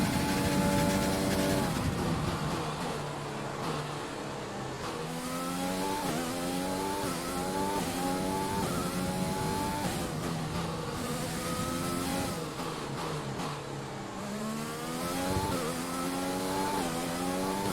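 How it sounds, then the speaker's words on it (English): An F1 car in the F1 2020 video game howls around a track, its engine repeatedly climbing through gears with quick upshifts and dropping on downshifts, loud and continuous without talk. "I'm amazed an F1 car can actually get around that corner."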